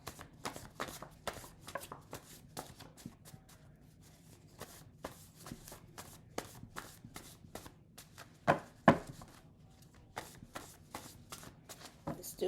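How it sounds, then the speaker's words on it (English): A deck of cards being shuffled during a tarot-style reading, with repeated crisp riffling bursts and soft flicks in a quiet room, plus a couple of louder slaps near the end. "Do a little shuffling one more time."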